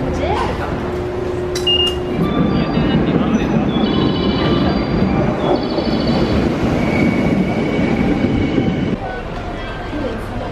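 A subway train in Japan rumbles along steadily with rattling carriages and occasional high squeals, loud and enclosed, with faint voices in the background.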